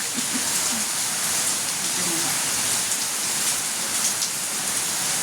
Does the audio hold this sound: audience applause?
no